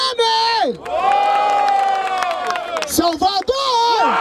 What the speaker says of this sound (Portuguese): Barulho para as rimas de GRM